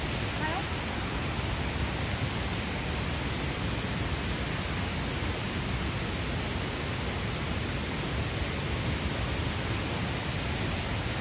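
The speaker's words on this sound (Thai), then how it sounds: "ข้างหน้านี่เสียงน้ำตก" A steady, dense roar of rushing water fills the whole clip, like Krathing Waterfall in Khao Khitchakut National Park, Chanthaburi, Thailand, heard from close by, with no breaks or changes.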